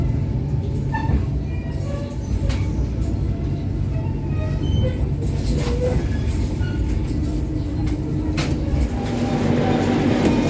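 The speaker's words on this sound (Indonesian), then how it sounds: "guncangan suspensi dan peredaman suaranya masih tergolong baik ya untuk kereta Milesteel ini" Sancaka Utara executive class passenger train running on rails, heard from inside the carriage as a continuous loud low rumble with rhythmic wheel clatter and occasional faint squeals and creaks, no voices.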